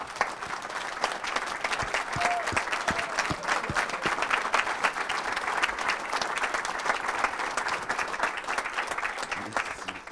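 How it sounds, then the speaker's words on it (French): A studio audience at a business club event gives sustained, steady applause welcoming the sailor Roland Jourdain, many hands clapping evenly and loudly for the whole stretch without letting up. "Je vous demande vraiment de l'accueillir par vos applaudissements et même vous lever."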